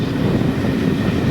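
A Bluebell Railway train running downhill over a viaduct on the approach to East Grinstead, a loud steady low rumble of wheels and carriages throughout, with a brief higher hiss near the end.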